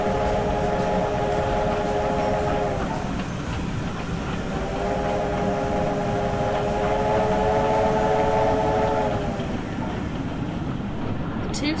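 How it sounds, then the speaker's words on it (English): Steam locomotives rumbling past one after another in a long line, with a continuous heavy rolling clatter and two long sustained whistle blasts, loud and close throughout. "one after the other came a long line of locomotives steadily forging past them"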